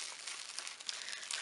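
Tape being torn open on a taped package from a Korean mall haul, a faint close crinkling and crackling that goes on steadily for a moment with no talking.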